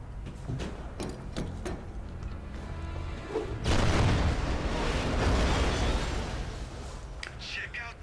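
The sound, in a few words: Tesla cannon weapon firing in Tomb Raider: Legend video game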